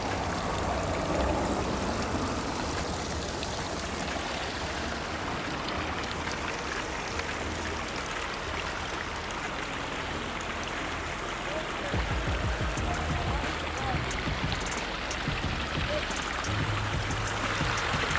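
Cold water trickles and runs down a solid rock face, a constant close splashing wash that stays steady throughout, with faint voices now and then beneath it.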